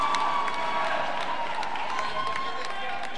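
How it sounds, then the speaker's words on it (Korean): An indoor gym crowd at a university volleyball match roars and cheers in a continuous echoing wash, with scattered shouts and claps and a faint whistle-like tone running through. "함성이 울려 퍼지고 있습니다"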